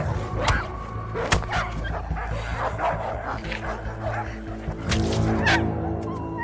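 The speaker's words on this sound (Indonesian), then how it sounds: "ada hyena dan beberapa anjing yang menggonggong padanya" Several dogs bark and yip at a hyena in a film scene, sharp repeated barks over a busy, loud background with some voice-like sounds mixed in.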